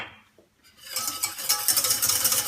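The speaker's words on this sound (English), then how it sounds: "Make sure you mix everything." Utensil stirring and scraping in a bowl as hollandaise ingredients with salt and lemon are mixed, starting quiet then turning into a steady, close clatter of whisking against the bowl.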